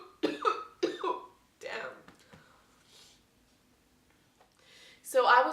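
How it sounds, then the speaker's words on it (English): A person coughs twice in quick succession, close and fairly loud, followed by softer throat noises and a final harsher cough, with no other sound between. "Hold on, let me cough."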